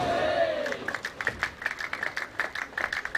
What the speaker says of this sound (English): all his friends cheering for him and giving him all the energy he needs to make the cut